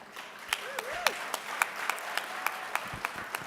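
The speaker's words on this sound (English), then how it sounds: "let's give Alexis another hand of applause" Sparse, evenly spaced claps from a small audience at a 2023 MLK tribute, honoring Alexis after remarks at the podium, with a voice talking over them.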